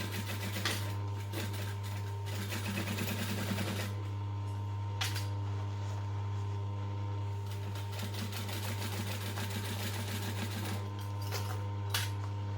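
A domestic sewing machine stitches and backstitches fabric for a children's sewing pattern, running steadily with a low motor hum and mechanical rattle, plus short bursts of faster stitching.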